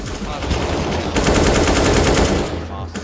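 Rifle gunfire from a Counter-Strike esports match at IEM Sydney 2018, a dense, continuous run of rapid automatic shots lasting nearly the whole moment and loud and close before easing off at the end.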